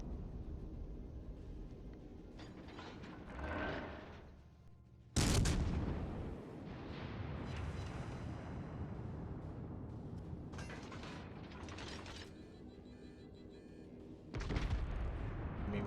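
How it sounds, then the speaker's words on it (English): Naval guns firing in the World of Warships: Legends naval battle game, aboard the Abruzzi: two sudden heavy salvo blasts, one early and one near the end, over a continuous rumbling battle ambience with no speech. "we open fire"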